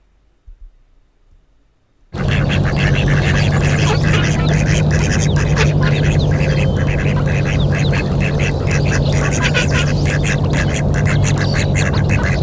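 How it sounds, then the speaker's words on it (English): A male mallard duck gives a low, raspy call rather than a quack, repeated in a steady run of rough calls close by after about two seconds of near silence, continuing to the end. "Rather than quacking, the male's call has a lower, more raspy quality."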